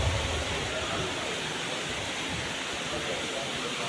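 Strong, fast-flowing stream water rushing loudly and steadily as a continuous broadband roar, close by and without pauses.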